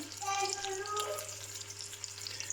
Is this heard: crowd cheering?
no